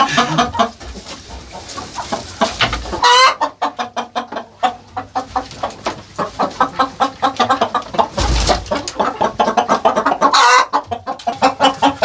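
Roosters and chickens cluck busily in a village poultry yard, with many short, close calls overlapping in rapid, irregular bursts and a few louder squawks standing out.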